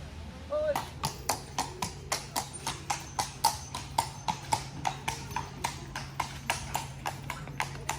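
Horse hooves clip-clop on a street in Bruges, Belgium, a steady run of sharp, evenly spaced strikes close by and fairly loud, with people talking in between.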